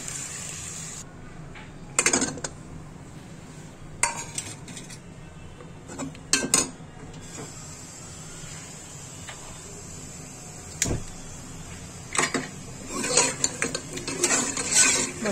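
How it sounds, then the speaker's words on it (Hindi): Potatoes and cumin fry in oil in a pan, with a soft continuous sizzle broken by repeated clinks and scrapes of a spoon against the pan, moderately close and without speech. "अभी थोड़ी देर तक मैं इनको फ्राई करती रहूँगी"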